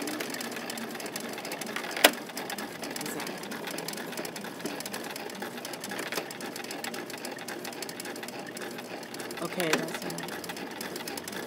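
Beginner's sewing machine running steadily through stitching and backstitching, a continuous close mechanical whir with a few sharp ticks, while a voice talks over it.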